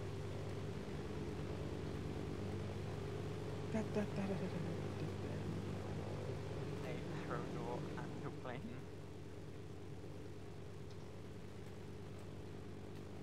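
An airplane in the video game DayZ drones steadily overhead as a low, continuous propeller hum lasting the whole stretch, easing slightly near the end, while players talk and one voice chants a rhythmic syllable over it.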